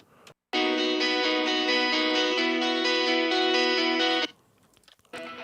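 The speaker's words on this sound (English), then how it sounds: "That's just those again, but like little plate, already committed with a bunch of stuff, and then even more of this little plate reverb." Layered electric guitars drenched in plate reverb, a sustained chord-like wash that starts abruptly, holds loud and steady for about four seconds, then cuts off into near silence.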